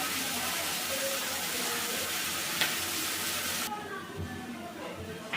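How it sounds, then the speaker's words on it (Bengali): Steady sizzling of onions frying in a pan, a continuous crackle that quiets in the last second or so. "পেঁয়াজটাকে ভালো করে ভেজে নেবো।"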